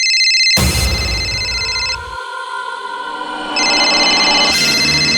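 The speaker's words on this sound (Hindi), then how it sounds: "उठा ले, उठा ले। तेरे जिगरी दोस्त करण का ही फोन होगा, उठा ले।" A phone rings loudly and close in a tonal electronic ringtone pattern, sounding in two bursts with a brief dip between them, with no talk over it.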